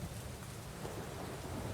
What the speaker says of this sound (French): Chemin faisant, il fut surpris par un tel orage